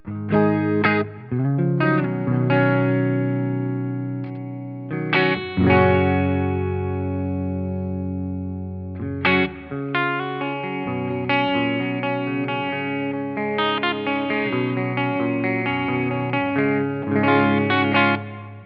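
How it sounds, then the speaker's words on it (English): Electric guitar chords and melodic notes through amp sim software ringing out with a lush, spacious stereo plate reverb tail, played continuously with a few pauses between phrases. "It's a really good stereo plate reverb."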